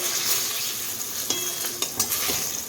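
Eggplant slices fry in a pan with a steady, close sizzling hiss, broken by a few sharp clinks of utensils against the pan.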